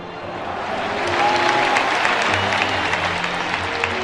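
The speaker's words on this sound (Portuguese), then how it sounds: "E eu queria humildemente que todos pudessem dar uma salva de palmas àqueles irmãos que se foram." An audience applauds in tribute to the Chapecoense players lost in the LaMia 2933 air disaster, steady massed clapping that swells slightly and holds, heard from within a large crowd.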